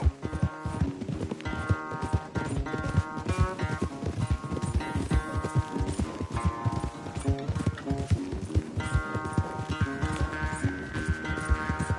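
Horse hooves gallop in a fast, steady clip-clop during a race in Red Dead Redemption II, with a busy music score playing over the hoofbeats throughout.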